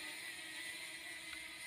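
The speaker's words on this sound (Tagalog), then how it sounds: "so pwede na nating pataasin ang ating drone" A camera drone climbs toward about 30 meters, its rotors giving a steady, faint whirring buzz that holds even and unbroken throughout with no voices.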